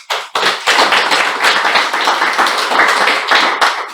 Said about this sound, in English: let's appreciate all the speakers of today's meeting with a brief round of applause